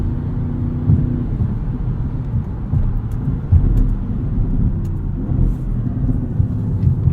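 A 2016 Audi S7's engine and road noise rumble steadily from inside the cabin, a deep continuous drone with slight swells as its sport differential carries it through a turn.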